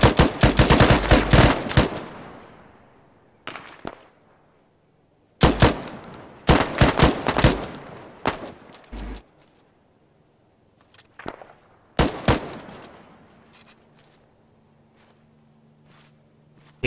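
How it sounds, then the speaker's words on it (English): Gunfire from the Qariah campaign video game in foothill terrain: several loud bursts of rapid shots with sharp cracks, separated by quieter pauses and echoing decay, no talk. "there's shots coming from the southeast"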